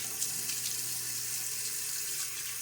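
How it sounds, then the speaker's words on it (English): Tap water runs steadily into a bathroom sink during a wet shave with a stainless steel safety razor, a continuous close splashing hiss with no voices. "we'll splash of water now on my face"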